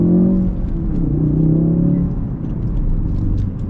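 A Ford Focus RS engine revs under rev-matched downshifts in sport mode with stability control off, a loud close rumbling drone with rising and falling pitch as the revs are blipped.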